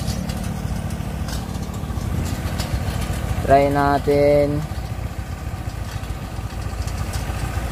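A motorcycle engine idles steadily throughout, with a brief tonal beeping in the middle and a person speaking over the low rumble.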